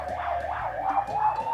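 Ambulance siren wailing in repeated rising and falling sweeps, moderately loud at some distance, cycling steadily over a low background rumble.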